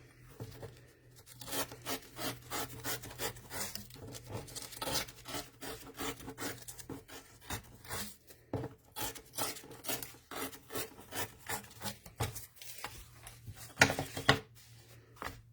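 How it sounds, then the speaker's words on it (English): Thick paper for a junk journal being torn by hand, a long run of dry ripping and rasping bursts in quick succession, close and fairly loud, with a sharper louder tear near the end and no talking. "I'm going to tear for the sake of speed and time today, and I just like the torn edge."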